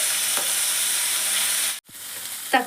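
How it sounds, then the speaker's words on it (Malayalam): Hot oil sizzles steadily around frying chillies in a home-kitchen pan. The sound cuts out briefly, then resumes more softly as chopped medium-size tomato goes in, with a short scrape of stirring. No one speaks. "ഇതിലേക്ക് ഒരു മീഡിയം സൈസ് തക്കാളി കട്ട് ചെയ്ത് നമുക്ക് ഇട്ട് കൊടുക്കാം."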